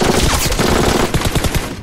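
Bandits in a film fire a rapid burst of gunshots, dense and loud throughout the short stretch, with no talk.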